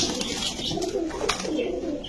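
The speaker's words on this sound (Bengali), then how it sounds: "এটা হলো লাল গলা কবুতর ভাই" Male red-necked pigeons coo in a continuous low, soft murmur at close range, with faint bright chirps above it and no talk over the sound.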